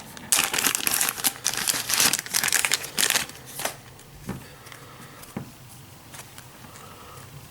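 Plastic packet of X-Wing game cards being torn open and crinkled close up, a dense burst of rustling for a few seconds that thins to scattered crackles.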